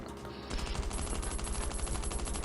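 Rapid bursts of automatic gunfire from Last Island of Survival, a survival shooter, begin after a brief quiet moment and continue loudly as a dense, crackling volley through the rest of the clip.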